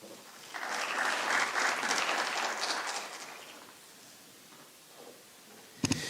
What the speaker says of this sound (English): we have to give Dr. Ehud a round of applause, please